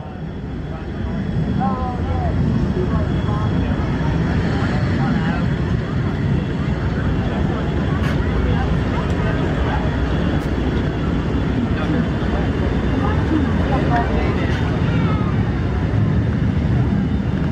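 Jet aircraft, F-14 Tomcats, make a low section pass at the NAS Oceana air show, a broad steady roar filling the whole stretch, with a public-address announcer talking over it.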